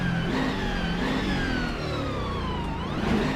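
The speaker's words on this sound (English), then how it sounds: "Tremendous sounding car." A BMW M6 GT3 race car engine in the rFactor 2 racing game drones and revs steadily on board, its pitch rising and falling continuously with no talking.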